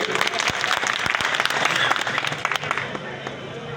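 Loud crowd applause at a political rally in Sadabad, India, dense continuous clapping from many hands that holds steady and begins to thin toward the end.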